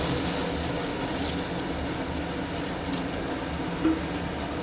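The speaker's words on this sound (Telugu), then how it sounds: "వాటర్ సరిపడినంత పోస్తున్నాను అన్నమాట." Water pours steadily into a pot of black gram dumpling curry with tamarind, a continuous, fairly close rush with no speech, the flow holding even throughout.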